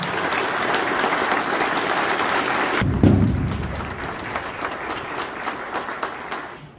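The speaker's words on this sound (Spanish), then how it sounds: "Un aplauso a San Manuel Morales." Dense applause fills a gathering at a pilgrimage honoring the martyr San Manuel Morales. A sharp thump cuts in midway, then the clapping carries on more softly and fades out.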